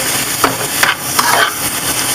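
Shrimp and tomato sizzle in a frying pan, a bright steady hiss broken by a few soft scrapes and clatters as the pan is tossed.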